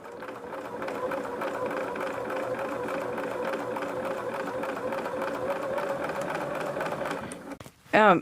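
A sewing machine runs steadily, stitching contrasting binding onto a baby quilt, a continuous close whirring, rattling drone that holds for several seconds before stopping, followed by a brief louder clunk.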